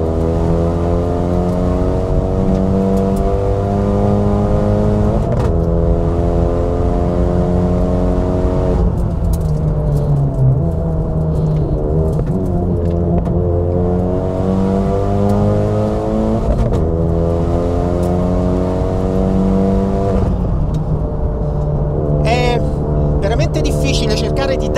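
A Renault Mégane RS 250 MK3 Cup accelerates hard down a track straight, heard from inside the car. The engine note climbs through the gears in repeated rising sweeps with brief dips at each shift, loud and continuous.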